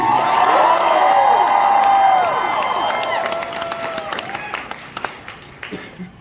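A large concert audience at Archer Music Hall in Allentown, Pennsylvania claps and cheers loudly, the applause swelling then gradually thinning out into scattered claps and shouts.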